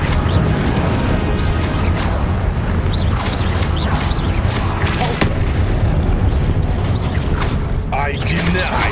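Confringo spell blasts go off in the wizarding game Hogwarts Legacy, repeated bursts and crashes over a constant loud rumble of combat, with a voice talking through the fight.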